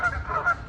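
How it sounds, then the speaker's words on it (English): Geese honking nearby, a couple of loud nasal honks overlapping in quick succession against faint background noise. "Listen to the geese."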